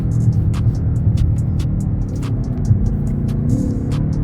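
A powerful car engine accelerating hard, a steady low throbbing drone that rises slightly in pitch, close and continuous with no talking.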